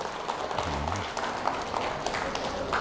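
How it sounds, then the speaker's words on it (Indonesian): Audience clapping at a cultural oration, a moderate, fairly quiet patter of applause with a brief voice near the start. "Tepuk tangan buat leluhur kita."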